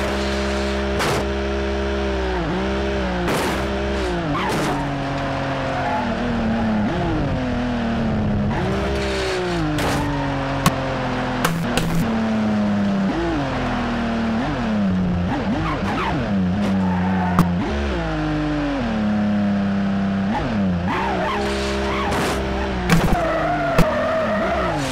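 A car engine revving steadily with tires squealing and skidding as it pulls a wheelie in the BeamNG.drive video game, the pitch sweeping up and down repeatedly over a long continuous stretch, with a few sharp clicks and no talk.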